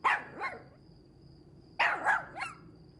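A dog barks nearby in two quick bursts, each a pair of sharp barks, separated by a short quiet pause with a faint steady tone underneath.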